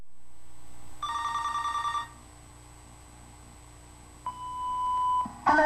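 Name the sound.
telephone ringing before an answering machine message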